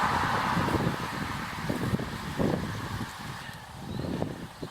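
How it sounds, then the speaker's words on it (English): Gusty wind buffets the microphone outdoors beside a country church in Suffolk on a cold, overcast day, a steady rushing roar with swelling gusts and low rumbles throughout. "today's just gone cold and it's quite windy"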